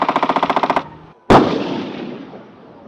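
Military crew gunnery practice at a training range in Georgia. A rapid burst of about ten loud machine-gun shots is followed by a brief pause, then a single heavy blast that booms and slowly rolls away.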